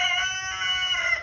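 An adult rooster over a year old crows in one sustained, strained call, loud and close, with no other sounds around it.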